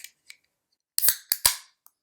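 A beer can cracked open, a West Coast IPA, with a few sharp close clicks and hissing pops in quick succession after faint small taps, no talking.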